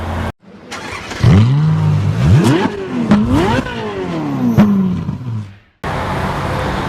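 A 2015 Honda Mobilio 1.5 RS seven-seater with a 1,500 cc engine, revved several times in a row: loud, close rising and falling engine whines with brief clatter, between two abrupt cuts.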